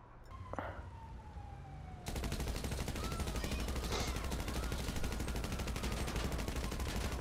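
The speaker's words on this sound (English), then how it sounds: "I hear shots going off." Video game gunfire in a chaotic LA street scene, a sustained crackle of shots under a dense wash of noise and sirens, with no speech.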